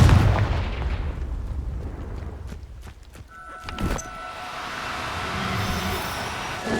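A Confringo spell explosion in the game Hogwarts Legacy lands as a sharp blast with a crackling burst, set against a rumbling background, followed by a faint lingering tone.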